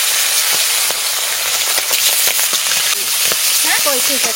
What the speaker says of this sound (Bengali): তেল গরম হয়ে গেছে, মাছ ভাজা দিয়ে দিচ্ছি।